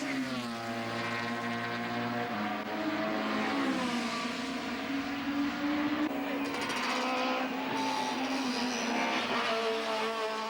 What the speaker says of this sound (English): The two cars are side by side down the main straight, and neither driver is going to back off going into the total curves.